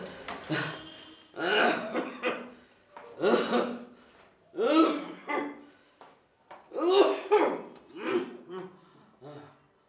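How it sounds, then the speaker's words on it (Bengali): A harsh coughing fit in a Bengali TV drama scene: a run of repeated voiced, rasping coughs and gasping breaths in uneven bursts, fairly close and loud, with short pauses between. "কাশির দম করছিল"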